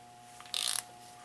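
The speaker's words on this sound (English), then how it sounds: "that's what I love about this torque wrench. I can back off and reposition" A torque wrench on a 1966 Chevy 283 engine block gives one short, quiet burst of rapid ratchet clicks as it is backed off and repositioned, with a faint steady hum underneath.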